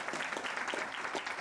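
Scattered audience applause at a Frappe Local Jaipur 2025 tech talk, a thin, steady patter of claps lasting the whole short moment, fairly quiet and without speech over it.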